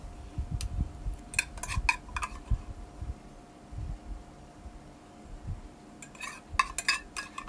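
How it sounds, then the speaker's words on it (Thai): Lime pork dish poured from a pan onto a plate arranged with fresh vegetables, giving a few light clinks and scrapes of utensil on cookware, then a short cluster of clatter near the end, close and fairly quiet. "เดี๋ยวเราเทใส่จานเลยนะคะ จานที่เราจัดผักไว้แล้วนะคะ"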